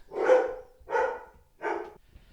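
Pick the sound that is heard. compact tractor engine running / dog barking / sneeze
dog barking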